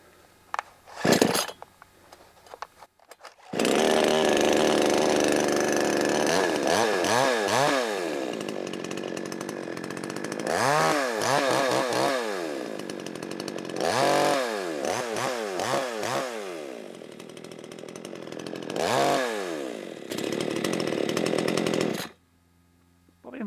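A new Demon CS58 chainsaw engine starts and runs close by, revving up and down repeatedly in loud surges before cutting off.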